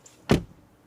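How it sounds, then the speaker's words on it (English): A Mercedes E-Class door shuts with a single solid, heavy thud, brief and close, preceded by a faint click and followed by quiet. "Door closing sound we have forgotten."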